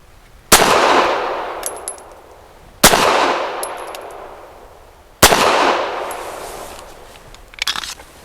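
Three loud, sharp Walther PD380 pistol shots firing Hornady Critical Defense 90 grain ammunition at an outdoor range, each spaced about two and a half seconds apart with a ringing decay, followed by faint metallic clinks.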